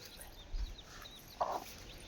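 A hen clucks softly near her chicks, short separate calls with quiet gaps between them, fairly close but low in level and free of speech.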